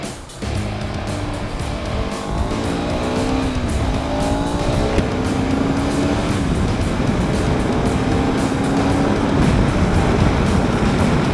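A 2025 KTM 390 Adventure motorcycle rides off-road, its engine droning loudly and steadily with rising revs and gear changes, accompanied by rushing wind noise and no speech.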